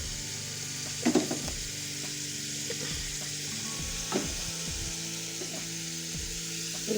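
Chicken and pumpkin pieces fry in a pan for a home pumpkin chicken gravy, a steady quiet sizzle broken by a few scraping stirs of a spoon against the pan.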